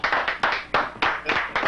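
Roughly a thousand people clap together in a steady, rhythmic pattern, each burst of hands sharp and full, the sound close and reverberant in a large gathering with no talking.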